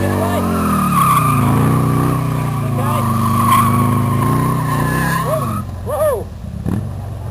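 Motorcycle stunt with the clutch slipped: a loud, close engine drone and tire skid hold throughout, then engine pitch shifts and rising revs near the end, with a voice briefly heard over it.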